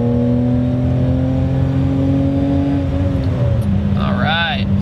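A BMW E30 accelerates hard in first gear, its engine note holding a loud, sustained drone that climbs, then drops briefly as revs change, heard from inside the car.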